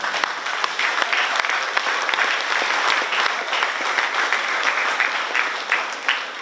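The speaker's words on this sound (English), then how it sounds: "May we give them a big round of applause." An audience at a 12th grade commencement ceremony claps for graduates, sustained loud, dense applause filling the hall without a break.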